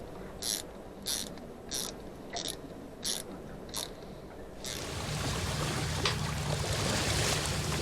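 A ratchet wrench clicks in six short, evenly spaced bursts as a fitting is tightened during a Victron Quattro inverter install aboard a boat, followed by a steadier broadband rush of water or machinery noise.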